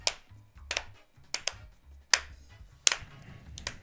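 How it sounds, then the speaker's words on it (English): Five or six slow, separated hand claps, sharp and close, spaced unevenly with pauses between them. "Sad clap."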